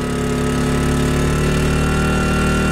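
A portable generator engine runs loud and close while charging a Tesla, a steady mechanical drone with a slight rise in pitch as the RPM climbs under increasing load.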